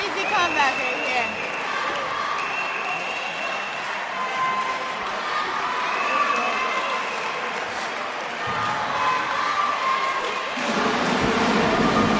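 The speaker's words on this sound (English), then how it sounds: "everyone's on their feet, everyone's cheering" A packed gym crowd at a high school varsity boys basketball sub-state playoff game, Louisburg against Baldwin, roars and cheers on their feet in a steady, dense wash of noise that swells near the end, with voices mixed in.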